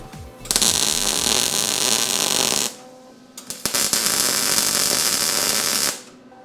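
Arc welding lays a bead on a VW bus interior panel, giving two bursts of loud, harsh crackling hiss, the second preceded by a few sputtering pops as the arc strikes, with a short gap between.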